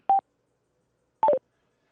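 Voice-assistant activation tone from a Cardo Packtalk Bold motorcycle headset: a short single beep, a pause of about a second, then a quick descending three-note chime, clean and alone against silence.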